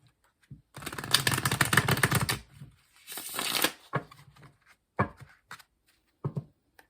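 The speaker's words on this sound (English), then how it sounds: "I like to give them a really good shuffle on camera" A deck of tarot cards being shuffled by hand, with quick riffling bursts and soft slaps of cards settling, close and fairly quiet, with pauses between the shuffles.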